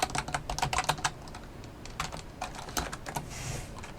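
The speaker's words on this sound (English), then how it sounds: "we're going to type in first name" Rapid bursts of keystrokes on a computer keyboard, close and fairly loud, in quick irregular runs with brief pauses between words.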